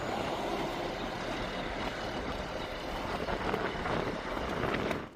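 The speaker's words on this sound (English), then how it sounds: "Today was an incredibly difficult day because of the wind." Strong wind on an Arizona bike tour between the Grand Canyon and Bellemont buffets the microphone in a steady, loud roar with gusty surges and no voices.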